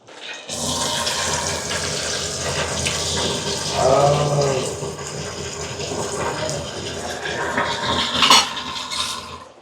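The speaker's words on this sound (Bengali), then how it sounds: "আমি এখন একটু জল দিয়ে দেব।" Water poured into a pan of Bengali fish curry, a steady close splashing pour with a sizzling rise midway and clinks of cookware.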